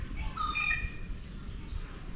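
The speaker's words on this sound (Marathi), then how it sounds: "आता पण तुम्हाला आवाज येत असेल ना पक्ष्यांचा" Birds call outside a terrace villa: a single clear, bright call rings out briefly at mid distance over a low, steady rumble of background noise.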